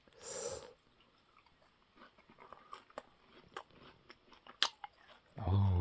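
Close, crisp crunching bites of fried pork cutlet followed by soft, irregular chewing, with a louder crunch near the end.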